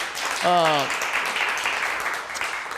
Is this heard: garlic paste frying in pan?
no